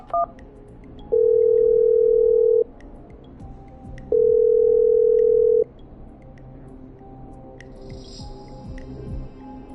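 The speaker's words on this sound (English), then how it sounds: "Okay, I'm dialing." A telephone dials a number with short tone blips. Two long, steady tones follow, the ringing signal with a pause between them, and then quieter line noise.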